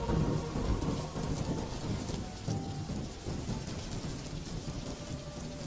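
Sudden heavy rain pours down with rolling thunder in a Bengali cartoon, a dense, steady downpour that stays loud and unbroken throughout, with no voices.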